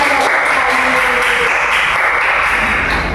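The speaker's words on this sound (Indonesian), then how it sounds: "tepuk tangan kita memulai" Classroom audience clapping during a teaching-skills session: dense, even applause that holds steady and loud for about three seconds, with no voices.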